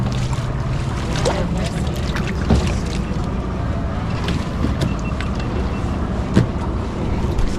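A boat ride on water toward the Palawan underground river: steady motor rumble with wind buffeting the mic and occasional knocks and splashes throughout.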